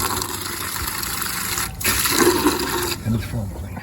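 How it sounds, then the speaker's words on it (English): Clear water rushes steadily through RV plumbing, a loud hissing flow that swells midway with gurgling and splashing. "So we got clear water coming through there now."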